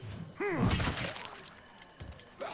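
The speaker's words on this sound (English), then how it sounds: "Breaking glass." Glass shattering in the zombie survival game State of Decay 2: a loud sharp crash with bright scattering fragments, followed by a fainter second impact and brief clatter.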